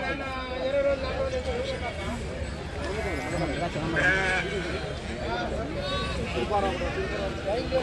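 Many sheep at a busy sheep market bleat repeatedly in overlapping calls, under steady crowd chatter and nearby talking.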